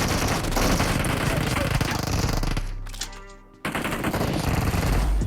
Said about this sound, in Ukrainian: По мені стріляють.